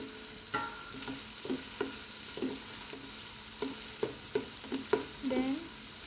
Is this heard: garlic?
yes